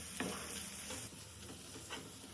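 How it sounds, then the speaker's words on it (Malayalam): Spice powders are sautéed in a pan, giving a quiet, even sizzle with a few soft scraping strokes as they are stirred. "പൊടികളുടെയൊക്കെ ആ ഒരു സ്മെല്ല് മാറുന്ന വരെ ഒന്ന് വഴറ്റി മാറ്റി വയ്ക്കും"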